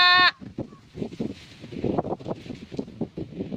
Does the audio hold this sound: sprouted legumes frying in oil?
no